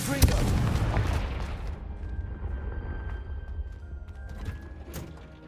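A Confringo blast spell fires in Hogwarts Legacy, an explosive boom at the start followed by rumbling, crackling bursts that fade over a few seconds, with a faint sustained tone beneath.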